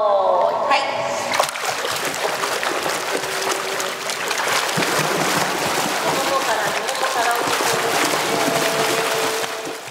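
Children seated on the edge of a pool flutter-kick the water in a swimming lesson, producing continuous loud splashing and splattering close by, with voices heard at the start.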